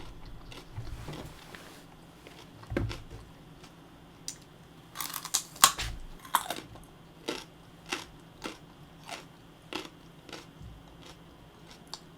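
Fried chicken being eaten, with scattered crisp bites and crunchy chewing at irregular intervals, close and fairly quiet over a low room hum, no talking.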